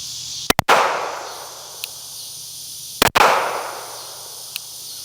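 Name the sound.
pistol shots fired with Radian Afterburner compensator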